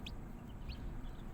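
Faint high-pitched peeping from newly hatched chicks under an LED heat lamp, a few brief cheeps over a steady low background rumble.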